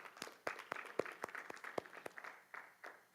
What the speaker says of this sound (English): Let's give Jesus a hand clap.